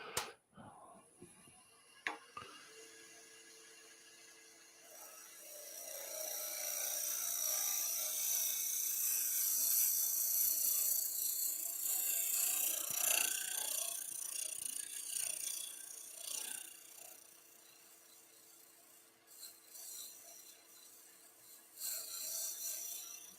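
Woodturning tool making a soft, gentle cut on wood spinning in a lathe, a faint continuous rasping scrape over the lathe's steady hum, with a few sharp knocks at the start.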